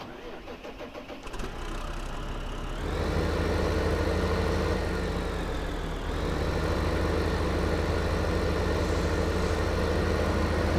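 A tractor engine in the Farming Simulator 2015 video game cranks and starts, then settles into a steady loud running drone with a brief dip in pitch midway.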